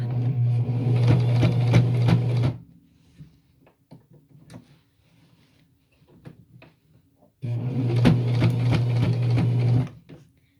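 Two loud bursts of a sewing machine running while sewing small quilt squares, each a steady whirring hum of a couple of seconds, separated by quiet handling and small clicks.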